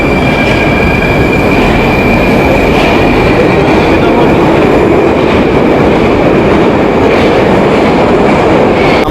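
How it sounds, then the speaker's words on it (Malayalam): A Moscow metro train runs underground with a loud, constant roar of wheels and rails, a steady high whine over rumbling clatter throughout. "നമ്മൾ വന്ന മെട്രോ ട്രെയിൻ എങ്ങനെയുണ്ട്?"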